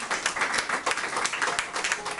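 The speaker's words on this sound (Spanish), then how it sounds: "Denle un aplauso a ese Dios con Cristo." Church congregation applauding during a sermon, a short spell of brisk, even clapping from many people, fairly faint and heard alone.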